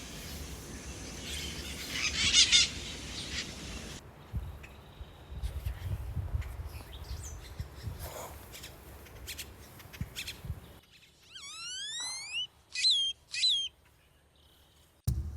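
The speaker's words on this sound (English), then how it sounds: "I recorded bird calls on my iPad" Bird calls ring out amid dense Costa Rican rainforest ambience, with chirps, whistles and rising sweeping notes from several birds, some near and loud, others faint.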